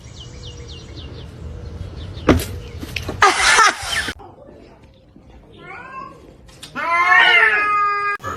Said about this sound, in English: Let me hear him meow.